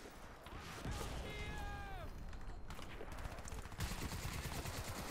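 Crysis 3 gunfire, faint overall, with bursts of rapid shots, mechanical clatter and a descending tonal whine partway through, followed by a steady rattling stream of automatic fire.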